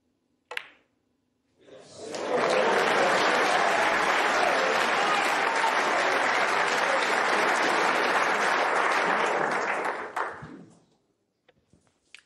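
A packed crowd at the 2023 World Snooker Championship erupting into loud, sustained applause and cheering after a short knock, holding steady for about eight seconds before fading to a few scattered claps.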